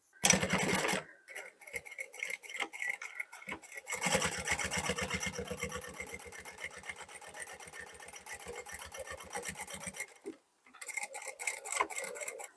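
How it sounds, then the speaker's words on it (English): Sewing machine stitching fabric backed with stiff interfacing along a drawn line, rapid mechanical needle rattle running in bursts separated by brief pauses, close and steady. "we double stitch at the beginning and at the end, just for added stability. And we're stitching on the drawn line."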